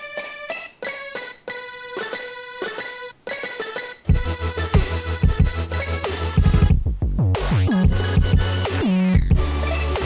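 Synth melody built from a cat meow sample: bright harmonic lead notes alone for about four seconds, then joined by a heavy bass and fuller electronic backing with pitch sweeps, loud and continuous.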